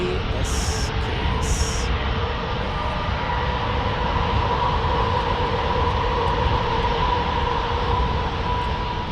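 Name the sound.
Delta Airlines Boeing 737-800 landing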